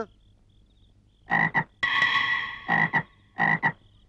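A frog croaks in loud, close, rasping calls, first in short doubled bursts and then one longer croak, separated by brief pauses.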